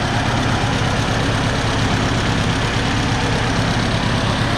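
An old tractor engine idles steadily until it runs out of fuel, a low, rough mechanical rumble with no breaks or voices, close by and fairly loud, in a shop.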